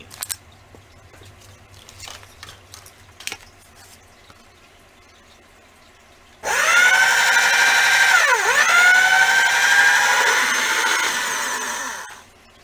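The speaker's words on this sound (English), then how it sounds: "So I'm just going to roll it through a couple of times on a a medium setting on the machine" Polymer clay fed through a pasta machine on a medium setting, heard as a loud, steady mechanical whirring that rises in pitch, dips and then cuts out after several seconds, following some quiet handling noises.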